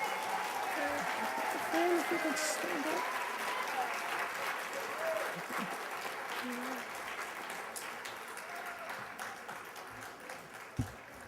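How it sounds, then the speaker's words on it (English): A conference audience at a SABE general session breaks into a long, sustained round of applause, dense and steady clapping filling the hall throughout, with a faint voice or two underneath. "I would like everyone to give him a round of applause"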